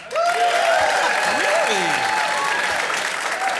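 A live podcast audience votes by applause, clapping steadily while voices and whoops rise and fall over the noise.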